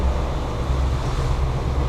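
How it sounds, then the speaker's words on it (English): Waves wash against a boat crossing a shallow bank on the way to the Bahamas, a continuous low rushing with wind buffeting the microphone and no other sounds. "few waves here now as we're crossing the bank"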